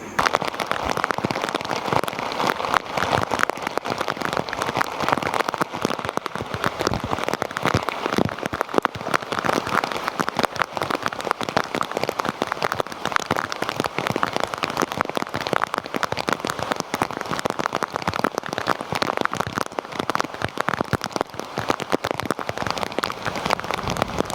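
Steady rain pelts a homemade rain cover over a DSLR camera, a dense, even patter of drops that holds throughout without letting up.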